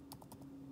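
Keystrokes on a computer keyboard entering an APN for a Huawei E397 internet key with a Fido SIM, four quick clicks close by over a steady low hum, with no talking.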